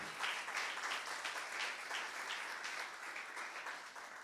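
A church congregation applauds, steady, fairly distant clapping that fills the whole stretch with no voice over it.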